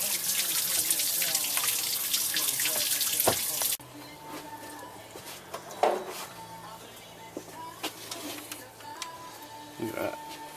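Coolant water pours steadily from a 2003 Chevy Tahoe Z71 engine into a drain pan, a bright splashing rush that stops abruptly partway, followed by scattered drips, clanks and faint voices.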